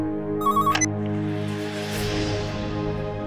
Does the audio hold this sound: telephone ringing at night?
yes